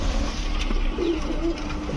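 Pigeons coo in a pigeon shop selling giribaz, racer and fancy breeds, low soft coos rising at moments over a steady murmur of background noise.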